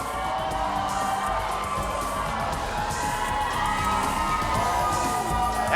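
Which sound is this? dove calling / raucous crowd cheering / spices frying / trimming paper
raucous crowd cheering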